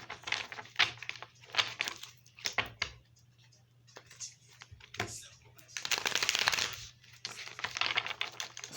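Tarot cards being shuffled in bursts of crisp riffling and flicking, with quieter gaps between, close and moderately loud over a faint steady hum.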